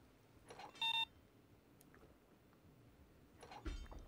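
A sensor mine in Payday 2 gives a short, sharp electronic beep once, followed by faint clicks and a soft thud later, all quiet with no speech.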